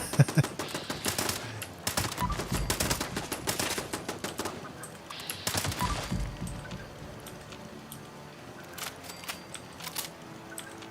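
Automated defense turrets in Fallout 76 fire sustained bursts of rapid gunfire at a survival base, with dense crackling volleys that are loud and close, easing into sparser scattered shots toward the end.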